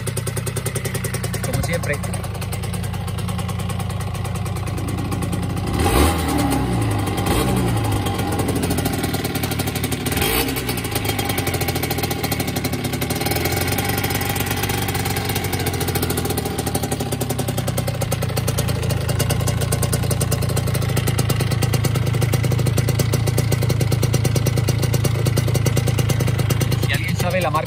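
A Honda NS-1 75cc two-stroke motorcycle engine idles with a steady, clattering putter and rises in a couple of revs, while a person talks briefly over it.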